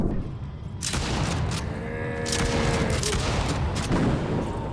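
Loud, continuous gunfire from a cubic-style mobile FPS game, dense bursts of shots over a booming background rumble, close and sustained throughout.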